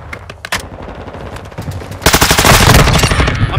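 Rapid automatic gunfire from the Call of Duty: Modern Warfare II video game, with sparse bursts giving way after about two seconds to a dense, loud, sustained stream of shots.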